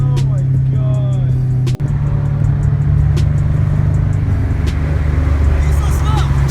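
A Scion FR-S fitted with unequal length headers gently accelerates on a road, its low, steady engine rumble running throughout beneath people talking inside the car.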